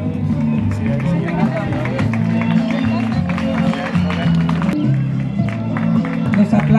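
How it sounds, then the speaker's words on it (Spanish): Steady applause from an audience at a school ceremony for a sugarcane harvest season closing, dense continuous clapping with crowd babble and voices mixed in throughout. "Aplausos, que no se dejen de escuchar"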